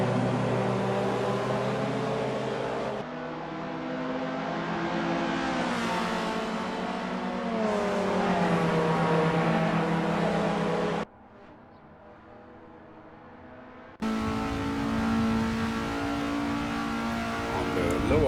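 Racing cars at Bathurst in a driving video game, including a Lotus Cortina and an NSU TT, roar steadily with rising and falling engine revs and gear changes, loud and continuous with a brief quieter stretch.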